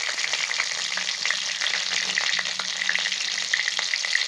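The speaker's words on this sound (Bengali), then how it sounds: "দিয়ে দিচ্ছি সর্ষের তেল, ফোড়নে দিয়ে দিচ্ছি একটু কালো জিরে, দিয়ে দিচ্ছি চেরা কাঁচা লঙ্কা" Nigella seeds and slit green chillies sizzle steadily in hot mustard oil in a village kitchen pan, a continuous close, crackling fry with small pops throughout and no talking.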